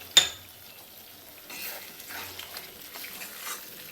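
Jackfruit and potato curry sautéing in oil in a wok, with a sharp clink of the pan at the start followed by a soft, steady sizzle and faint stirring scrapes.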